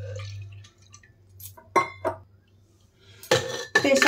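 Arhar dal and water going into a pressure cooker, heard as a faint hum followed by a few close clinks and clatters of metal and glass, then louder splashing pours near the end.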